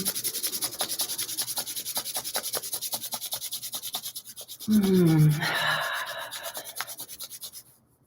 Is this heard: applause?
no